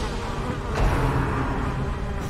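Mosquito enemy from the video game Darkest Dungeon, a continuous insect-like buzzing drone that swells slightly partway through, steady and fairly loud with no talk over it.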